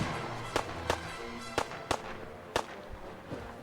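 Distant semi-automatic and laser gunfire in the game Fallout 4, about eight sharp cracks in irregular bursts over a low ambient background, fairly faint and far off.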